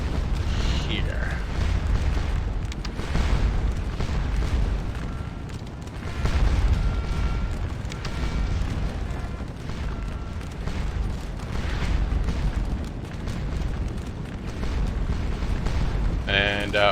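Cannon from an artillery battery fire in the Napoleonic battle game Scourge of War Waterloo, heavy booms rolling out every few seconds over a constant din of battle noise.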